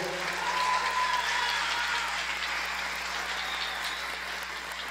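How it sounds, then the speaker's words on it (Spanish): Applause follows a big band performance for the singer, a steady moderate clatter of many hands from the audience, sustained evenly over a low hum of the room. "fuerte las palmas para ella"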